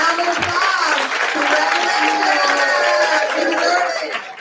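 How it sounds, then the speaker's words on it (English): Audience applause at a graduation ceremony, a dense steady wash of clapping mixed with crowd cheering and voices that holds at full level for several seconds before easing slightly at the end. "Let's give all of our graduates and honorees another round of applause."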